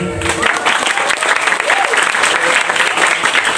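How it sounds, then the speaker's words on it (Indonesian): Crowd applause at a pesantren school's 31st anniversary ceremony, loud continuous clapping that swells in after a brief opening voice and carries on steadily to the end. "Tepuk tangannya sekali lagi."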